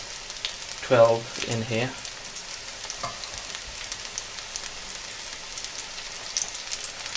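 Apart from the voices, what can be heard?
onion bhajis frying in hot oil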